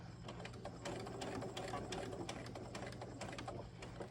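A sewing machine runs a steady continuous stitching burr, sewing a 5/8 inch seam on a garment with elastic, close and even throughout with no talk.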